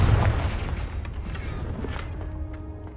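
Confringo blast spell in the Hogwarts Legacy fantasy game, a heavy booming explosion at the start that rolls into a fading, rumbling decay with faint debris crackles.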